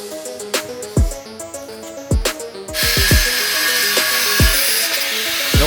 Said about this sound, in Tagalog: Kaya ngayon, Dremel lang ginamit ko.